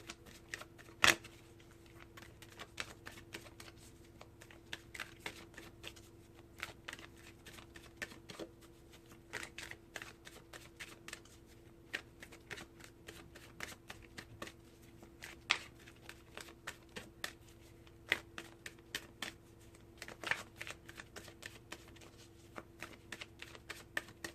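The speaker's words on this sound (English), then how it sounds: "I'm just going to pick one card" Tarot cards are shuffled by hand for a reading, producing soft, scattered riffling flicks and papery taps that come in irregular bursts over a quiet background for about twenty seconds.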